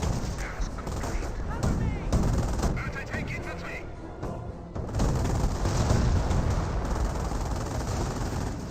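Rapid machine-gun bursts and heavier booming shots fill a World War II battle in the strategy game Company of Heroes, dense and continuous with a brief lull midway and faint commentary underneath.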